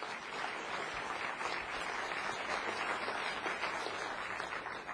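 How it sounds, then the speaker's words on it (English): Audience applause at a motivational talk on confidence, a steady dense wash of clapping holding at moderate level throughout, with no voices over it. "That deserves a round of applause because we're celebrating in advance."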